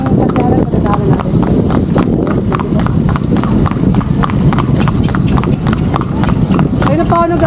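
A horse's hooves clip-clop steadily and up close as it pulls a kalesa carriage through Vigan's streets, with a regular trotting rhythm that carries on throughout beneath a constant background rumble.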